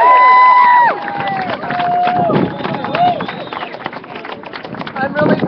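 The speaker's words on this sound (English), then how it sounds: "can I hear a round of applause for my Christina Loggi?" Press conference crowd outside a federal prosecutor's office in San Francisco cheering and whooping loudly, with shouts and voices rising over a dense hubbub of people.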